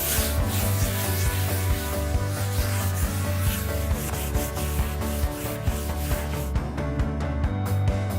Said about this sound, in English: Let's give these walls a bit of a sand.